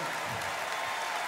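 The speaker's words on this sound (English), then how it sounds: "Give them a nice round of applause" Concert audience at a show in 2009 breaks into steady applause, a dense wash of clapping that holds at even loudness throughout.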